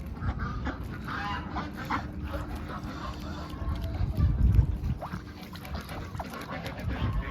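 Ducks on a muddy farm quack in scattered bursts close by, with a louder flurry midway, over a low outdoor rumble.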